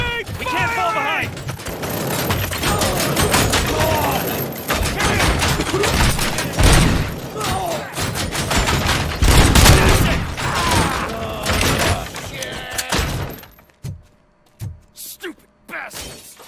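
Gunfire in the video game RoboCop: Rogue City, with dense bursts of shots, impacts and crashes under shouted voices, loud and continuous before thinning into a few scattered hits near the end.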